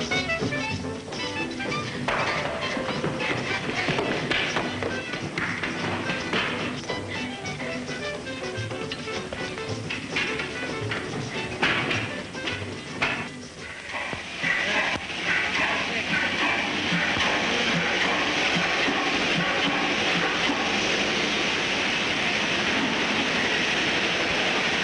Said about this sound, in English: The train comes in 10 minutes.